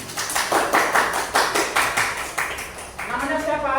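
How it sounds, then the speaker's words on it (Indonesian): An audience at a school talk applauds, with a run of close, rhythmic hand claps over a few seconds as a voice starts speaking near the end. "beri tepuk tangan"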